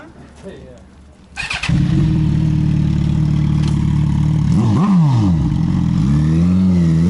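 A BMW E30 on a base engine map with a newly fitted fuel pump cranks and catches, then settles into a loud, close idle before two sharp revs rise and fall, with voices faintly underneath.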